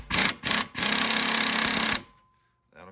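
An impact wrench or power tool spins off the 18 mm sway bar link nut on a 2010 Chevy Cobalt front suspension: two short loud bursts, then a sustained rattling run of about a second, ending abruptly in near silence.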